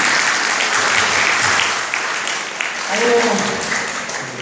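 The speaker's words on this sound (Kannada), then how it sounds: "ಒಂದು ಒಳ್ಳೆ ಚಪ್ಪಾಳೆ" An audience at a youth Red Cross school event gives a round of applause, a dense wash of many hands clapping that stays loud for a few seconds and then thins out, with voices mixed in.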